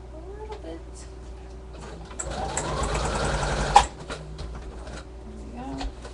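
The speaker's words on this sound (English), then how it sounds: "I'm just going to sew it back down" A sewing machine stitches an embellishment down onto a paper scrapbook page in a brief burst of about two seconds, rising and ending in a sharp click, with quiet room noise and a soft voice before and after.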